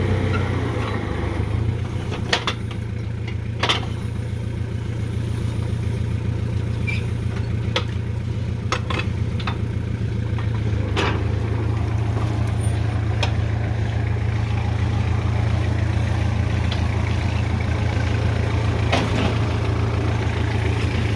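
A heavy engine drones steadily at a water well drilling site, a strong low hum held for the whole stretch with scattered clanks and knocks over it, but no clear rise and fall of revving.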